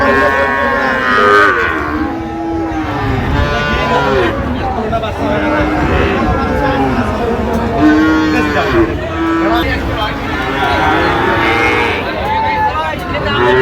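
Cattle moo repeatedly at a cattle market, long low bellows overlapping one another amid a steady hubbub of voices and background noise.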